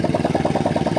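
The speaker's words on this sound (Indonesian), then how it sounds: "ini motornya maaf agak berisik" A noisy motorbike engine, one usually ridden out to oil palm plantations, runs steadily nearby with an even, rapid pulsing throb and no talk over it.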